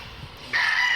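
A red rooster at a live cockfight gives a single loud crow, a sustained strained call rising abruptly midway and holding to the end, close to the recorder with no talk over it.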